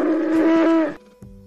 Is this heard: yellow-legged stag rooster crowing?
no